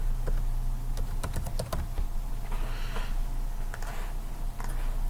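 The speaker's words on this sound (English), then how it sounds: "I'm going to type in Yellowstone" Rapid bursts of typing on a computer keyboard, close and clear, with short pauses between runs of keystrokes over a steady background hum.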